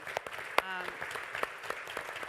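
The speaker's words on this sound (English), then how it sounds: "just another round of applause" A round of applause from the audience at a union political conference panel, quiet and somewhat distant, with scattered claps under and around a speaking voice.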